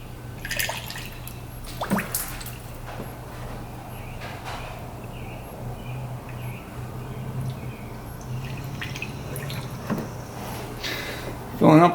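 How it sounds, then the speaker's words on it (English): Coolant being poured into a UTV's cooling system, with a quiet steady trickle and occasional drips running throughout and a louder splash near the end, while faint talk is heard in the background. "Let's just pour some in and see how much we can pour."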